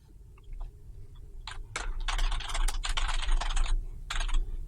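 Keys clack on a computer keyboard, starting with a few scattered taps and then building into dense bursts of fast typing, close and fairly loud, with no voices.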